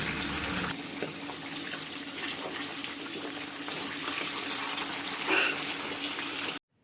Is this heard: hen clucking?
no